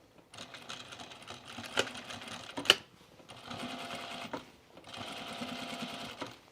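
Sewing machine stitching in the ditch along a trouser seam, running in three steady bursts of rapid mechanical whirring separated by brief pauses, with a sharp click in the middle.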